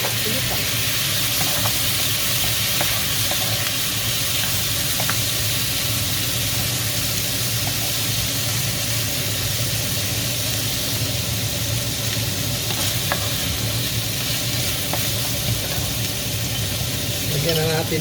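Pork meat sizzles and fries in a hot pan while cooking Bicol Express, giving a loud, steady hiss throughout with occasional stirring clinks, heard up close.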